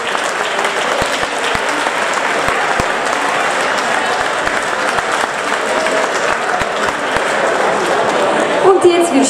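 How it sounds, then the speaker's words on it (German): An audience at an outdoor brass band festival gives sustained, dense applause for the band's conductor. The clapping is loud and continuous and stays even throughout, with a brief brighter flourish near the end. "Applaus ist für dich"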